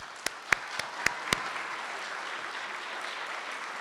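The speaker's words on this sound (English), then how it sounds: "So give them a round of applause." At a college athletics Hall of Fame induction ceremony, a few sharp, separate claps ring out close by, then a crowd's applause settles into a steady, even wash that lasts to the end.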